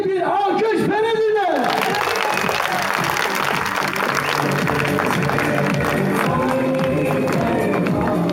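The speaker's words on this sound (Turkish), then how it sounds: "Bu kardeşimize kuvvetli bir alkış verildi." At an outdoor political rally in Ferizli's Democracy Square, a crowd breaks into strong applause and cheering, a loud roaring wash of clapping and voices that follows a brief stretch of amplified speech at the start.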